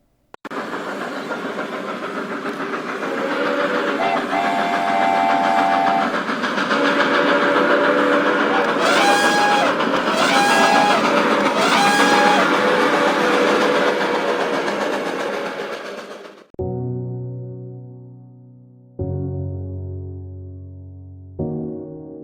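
A train rumbles past loudly for about sixteen seconds, with a few high whistle blasts midway, followed by tonal music-like horn notes after it fades.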